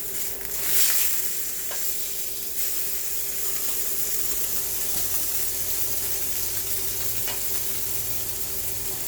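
A tri tip steak sizzles in a pan with a continuous, fairly loud frying hiss and a few faint clicks and crackles throughout. No one talks.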